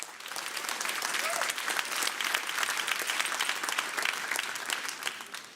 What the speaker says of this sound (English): Let's have a round of applause for our nominees.